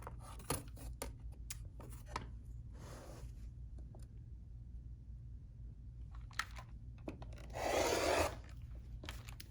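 A rotary cutter slices a fabric strip on a cutting mat in one short, close rasping pass, surrounded by quiet handling rubs and soft taps with no speech.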